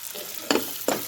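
Beetroot seasoned with turmeric and salt fries in a pan, a soft continuous sizzle broken by two short scraping stirs of a spatula.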